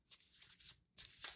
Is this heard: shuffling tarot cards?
yes